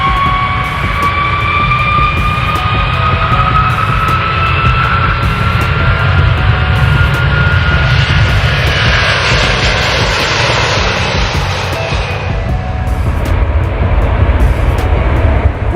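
Aircraft engines roaring during takeoff, a loud sustained drone with rising whining tones and a thickening rush of noise midway, steady and close throughout, no talk.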